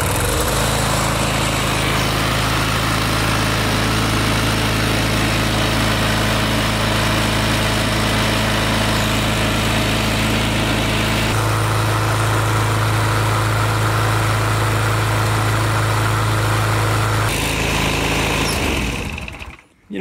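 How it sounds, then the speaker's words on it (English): Lawn mower engine running steadily after a crankcase breather tube repair, loud and close with a droning hum, shifting pitch partway through before cutting off at the end. "So I'm going to bring this mower outside, fire it up, let it run for a bit,"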